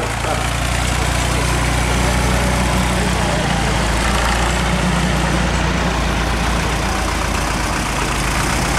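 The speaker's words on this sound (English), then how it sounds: "We've got a 40 Dexter. This will be about a 1960s model, 3-cylinder Perkins diesel" A 1960s Fordson Dexter tractor with a 3-cylinder Perkins diesel engine idles with a steady low rumble at an outdoor agricultural show arena, and a voice can be heard over the engine.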